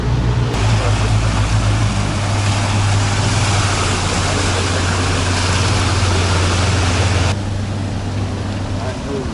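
A motorboat's engine drones low and steady while the craft docks at sea, loud and close with wind and water noise washing over it, then the rumble drops back near the end as someone talks.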